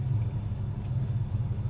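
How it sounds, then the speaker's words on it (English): A neighbouring car's engine revs on and off, a low throbbing rumble coming from next door, fairly faint and muffled, with no talking. "Sorry about the perpetual revving of the car next door."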